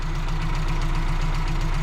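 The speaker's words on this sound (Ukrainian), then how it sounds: "Запускаємо двигун" A car engine idles steadily after a resonator replacement, with a low, even rumble and faint rhythmic knock, close by and continuous with no voices.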